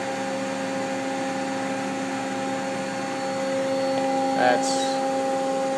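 A Mazak QT-20 CNC lathe spindle runs at 1,000 RPM with a steady, quiet hum of layered tonal whine over faint broadband noise. A short voice cuts in near the end.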